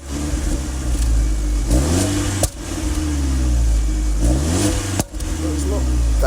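An Alfa Romeo Giulietta idles and revs through its exhaust, a deep steady engine rumble with a couple of rising throttle blips and sharp cutoffs, close by.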